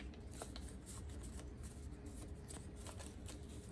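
Paper being creased and folded by hand while making an origami jet, a steady close crinkling and rustling with no talk.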